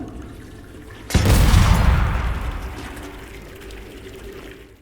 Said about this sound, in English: So the toilet will explode.